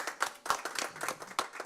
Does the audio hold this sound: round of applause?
yes